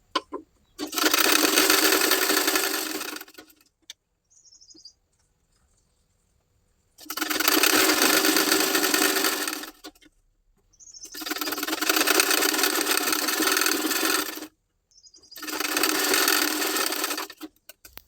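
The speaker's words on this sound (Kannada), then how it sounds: "ಮೊದಲು ಈ ರೀತಿ ನಾವು ಕಟೋರಿನ ಲೈನಿಂಗ್ ಹಚ್ಚಿ ಸ್ಟಿಚ್ ಮಾಡ್ತಾ ಇದ್ದೀನಿ" Sewing machine stitching a blouse's katori lining to the main fabric, running in four sustained bursts of several seconds each, separated by short pauses, loud and close with no talking.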